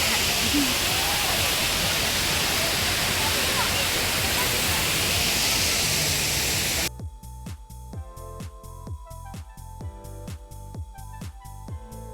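Jari Falls, a waterfall near Chikmagalur, roars with a dense, steady rush of water close by for about seven seconds before the sound cuts abruptly to quieter background sounds.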